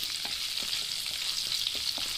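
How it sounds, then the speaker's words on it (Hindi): A tadka of urad dal, cumin, mustard seeds, curry leaves and asafoetida fries in hot oil with a constant bright sizzle and light crackles, punctuated by soft stirring taps. "ये सारी तड़के की सामग्री को हम अच्छे से भून लेंगे ताकि वो कच्चापन चले जाए"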